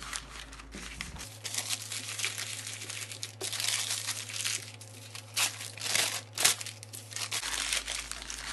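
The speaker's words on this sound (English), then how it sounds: "you're going to stuff it with the scrap paper" Scrap paper is crumpled and pressed into the cups of half an egg carton, making a steady close crinkling and rustling over a faint low hum.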